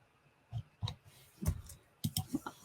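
Typing on a computer keyboard, a few quiet scattered clicks in short bursts with pauses between, close and soft in an otherwise quiet room.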